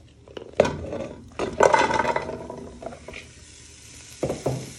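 Onions and courgette sizzling in a heated pan for a winter vegetable soup, with bursts of clattering and tossing over a steady fry, close and moderately loud, no talking.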